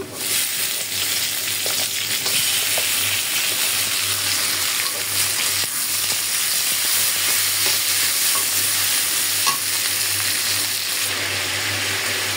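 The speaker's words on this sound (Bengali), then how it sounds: "আমার মাছ বোনার পেঁয়াজটা কিন্তু হয়ে গেছে। আমি এখন দিয়ে দিচ্ছি টমেটো।" Tomatoes hit frying onions in a wok for a rui fish curry, giving a loud, continuous sizzle with stirring scrapes throughout and no talking.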